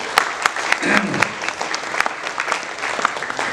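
Audience applause breaks out at a movie audio launch, a dense burst of clapping with sharp individual claps standing out, and some voices mixed in.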